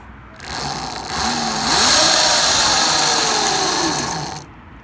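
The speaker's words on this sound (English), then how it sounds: "I'll quickly lean the bike out and pull the throttle back just so you can see it RPM." A small MXR 1500 bike engine revs with the throttle, buzzing high and steady, swelling and easing once over a few seconds before cutting off.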